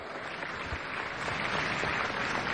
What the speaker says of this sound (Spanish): Damos un aplauso a los enlaces, ¿vale?